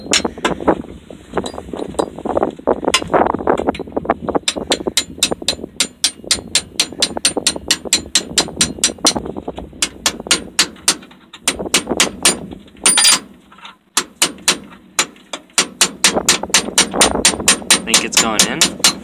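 A shift lever is hammered back into place on a John Deere 7020 diesel tractor, a long run of sharp metallic knocks in steady bursts, close and loud, with brief pauses and a voice at times between strikes.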